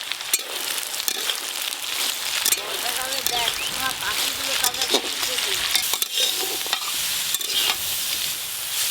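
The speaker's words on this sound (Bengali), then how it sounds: "ফ্রাইড রাইসের জন্য সবজি কিন্তু একদম হালকা করে ভাজতে হয়।" Beans, capsicum and carrot with lightly fried onion and salt sizzle and get stirred in a pan for egg chicken fried rice, a steady hiss with scraping spatula strokes while someone talks over it.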